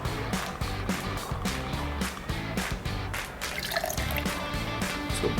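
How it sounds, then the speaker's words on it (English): Sixty millilitres of gin is poured into a bar mixing glass for a mulberry gin fizz, a soft, close trickle and splash of liquid that runs for several seconds over faint background music. "Now we need some gin, so I'm going to pour in 60 ml of gin."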